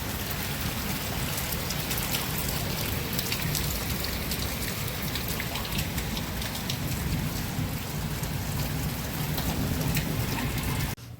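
Steady, heavy rain pouring down on surfaces, a constant dense hiss lasting the whole time before cutting off abruptly at the end.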